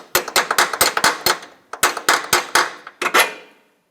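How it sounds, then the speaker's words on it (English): Sharp metallic hammer taps strike a 21mm socket on the control arm of a 2007-2017 Jeep Compass, about a dozen close, ringing blows in quick bursts with a brief pause, then silence. "Just going to give it a little tap from the top."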